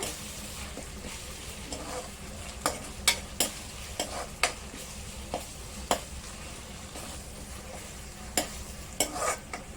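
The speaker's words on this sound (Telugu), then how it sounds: "అల్లం కొంచెం పచ్చివాసన పోయేంత వరకు వేయించుకోవాలండి" Ginger frying in a pan for chicken curry, with a faint, soft sizzle and a scattering of sharp spoon taps and scrapes as it is stirred.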